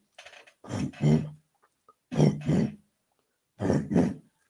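A voice imitates a heartbeat with three paired thumping sounds, lub-dub, spaced about a second apart with pauses between.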